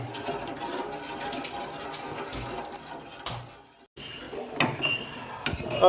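A milk and milk powder mixture is stirred in a pan, with busy metallic scraping and clinking of a utensil against the pan, briefly stopping, then resuming louder and more clattery near the end.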